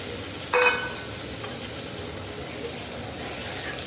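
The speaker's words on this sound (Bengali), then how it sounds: "এবার এই যে মশলার বাটিতে যে জলটা দিয়েছি, ওই জলটা আমি ঢেলে দিচ্ছি।" Water poured into spice paste frying for a fish curry, a sharp burst of sizzle followed by a softer ongoing bubbling hiss, close by.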